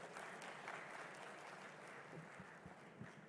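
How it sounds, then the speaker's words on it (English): A room full of people applauding to welcome a speaker to the podium at a state event at the presidential palace in Dar es Salaam, a steady, even wash of clapping throughout that sounds fairly distant. "let's welcome him with a round of applause"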